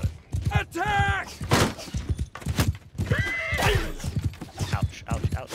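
Horse neighs in Mount & Blade II Bannerlord, two whinnies rising over battle noise with hoof clatter, impacts and someone talking throughout.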